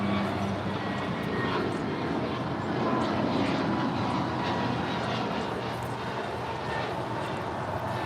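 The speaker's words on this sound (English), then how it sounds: "There you go, Emirates 216 heading out to Dubai on this 3-year-old A380." Emirates Airbus A380, three years old, departing LAX for Dubai: a broad, steady distant jet roar that swells slightly and holds throughout, with no clear talk over it.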